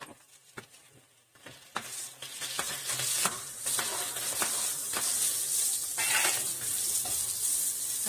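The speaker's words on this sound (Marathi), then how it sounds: "मसाले थोडेसे हे झाले, फ्राय झाले की त्यात आपण हा कांदा टाकूया." Onion hits hot oil and ghee with whole spices, bursting into a loud, close sizzle after a quieter start, with a few sharp clicks and crackles and a steady hiss for the rest.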